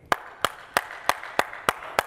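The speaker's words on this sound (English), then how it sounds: "Mine's more like an audience applause clap" Seven crisp, evenly spaced hand claps in a steady rhythm, close and fairly loud, with no voices.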